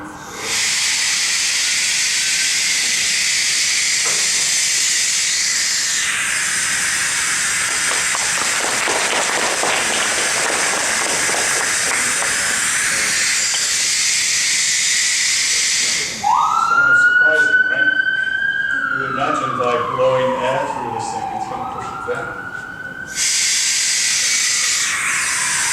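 Air blown through an upturned funnel during a physics lecture demonstration gives a steady, loud hissing rush, then a rising and falling whistle-like tone that holds for several seconds before the broad hiss returns.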